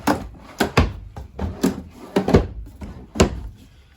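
Kitchen drawers in a 2022 Tracer 260BHSLE RV sliding open and shut, a string of close wooden knocks and thuds in an uneven rhythm with brief slides between them.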